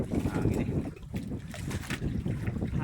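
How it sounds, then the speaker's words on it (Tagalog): Strong wind buffets an open boat out on the water, with a continuous loud rushing roar and gusty swells that fill the whole stretch. "Hangin eh."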